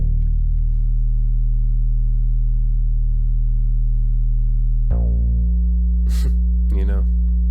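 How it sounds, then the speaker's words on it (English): A deep, steady sine wave synth bass with saturation holds for several seconds, then shifts to another sustained low note, slightly gritty and warm, with brief breathy sounds near the end. "it's basically just a sine wave with a little bit of saturation"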